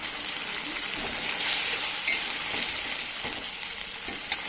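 Spices with chopped tomato, salt and a little water sautéing in a pan for a meat dish, giving a dense, steady sizzle close up with a few light stirring clicks and no voices.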